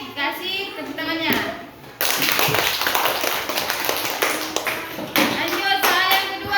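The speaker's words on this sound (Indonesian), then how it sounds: "Jika benar nanti kasih tepuk tangannya." Children in a classroom clapping together for a correct answer in a religious lesson on angels, short bursts of group applause alternating with children's voices talking, fairly close and lively.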